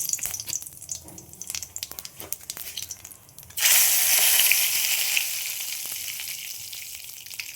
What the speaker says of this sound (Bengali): আমি এখানে জিরে ফোড়ন দিয়ে দিলাম, শুকনো লঙ্কা,